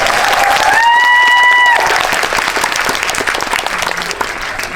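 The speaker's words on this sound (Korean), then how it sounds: "이런 게 바로 자연산 박수" A live audience at a Crime City 3 film talk event breaks into dense, sustained applause that fills the room, opening with a brief whistle-like tone and then thinning slightly as the clapping carries on.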